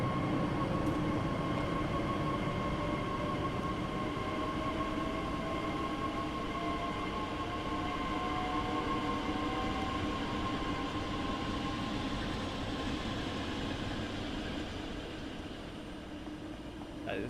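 A Class 442 electric train departing in Train Sim World 6, with a steady loud rolling rumble and sustained whining motor tones that shift in pitch over time, slowly easing toward the end.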